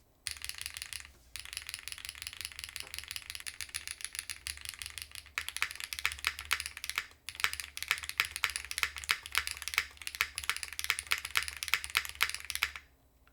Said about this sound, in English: This is probably the best sounding flex cut PCB that I've ever typed on.